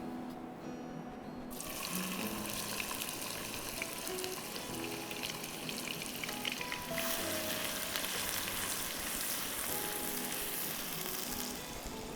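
Onions hiss and sizzle in hot oil, a steady crackling fry that starts suddenly and continues throughout, fairly loud and close.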